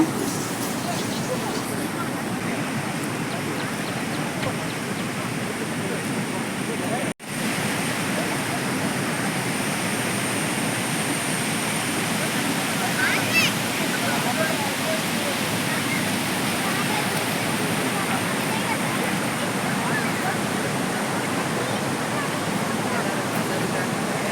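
Water cascading down a hillside stream near Gundya, a continuous even rushing roar that fills the whole stretch with only a brief dip, no clear speech.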